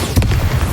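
A Bombarda spell in the video game Hogwarts Legacy sets off a short, blunt blast. It is a single brief burst with a low boom and a quick fade.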